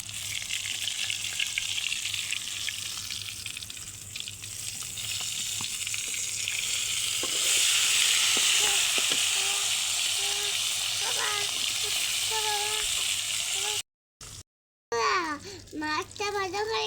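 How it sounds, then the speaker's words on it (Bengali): A flipped fish keeps frying in hot oil with a loud, steady sizzle that swells midway, while someone speaks over it near the end. "বন্ধুরা মাছটা আবার উল্টে দিব।"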